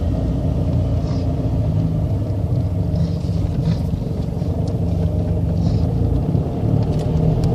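A car engine runs steadily while driving, a continuous loud low rumble with road noise and no break, close to the listener.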